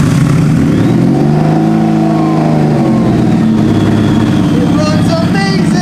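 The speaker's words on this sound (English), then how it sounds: "Let's fire this beast up" A 1999 Honda Valkyrie motorcycle with 58,000 miles fires up close by and revs steadily, its loud engine drone rising and falling in pitch throughout without letup.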